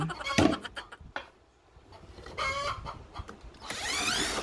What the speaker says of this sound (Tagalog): Eto namang manok namin. Parang gusto niya ring mag-voice over.